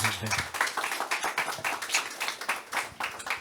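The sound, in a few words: audience applause for panelist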